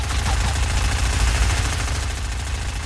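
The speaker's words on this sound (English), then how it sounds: "Everybody shooting at me?" Sustained, rapid gunfire in the video game Fortnite, a loud, dense burst running the whole time over a low rumbling hum, with no clear gaps between shots.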